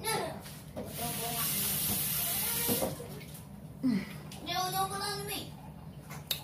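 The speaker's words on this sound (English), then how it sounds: "Wash my hands." Tap water runs in a steady hiss as hands are washed at a home sink, continuing for a few seconds before trailing off, with a voice and other talk breaking in over it.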